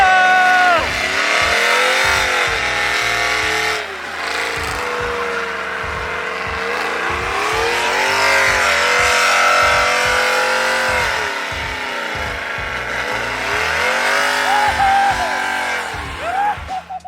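A car does a burnout at a car meet in Mexico. The engine revs hard and continuously with rising and falling pitch over a steady roar of squealing tires, loud and close, with crowd voices faintly underneath.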